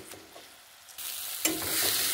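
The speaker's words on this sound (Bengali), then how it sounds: "তো মশলার সাথে ভালো করে এটা মিশিয়ে নেব।" Leaves being stirred through spices in a hot pan, a quiet start giving way to a louder sizzle with scraping strokes in the second half.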